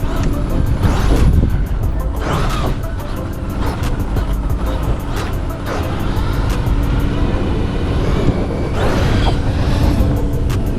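A Redcat Vigilante RC car on its first off-road run, its electric motor whining and whirring continuously at moderate loudness with bumps and gusts of outdoor noise, surging in bursts as it drives around trees.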